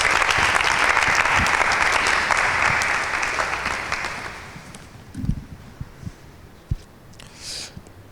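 A crowd at a Bible quiz event bursts into loud applause that holds for several seconds and then fades away, leaving scattered thumps and faint rustles at the end.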